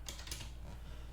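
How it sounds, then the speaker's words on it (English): Computer keyboard typing entering a program name on an LXLE Linux desktop, a short run of soft, close key clicks with faint background hiss and no voices. "Then I'm going to type in that,"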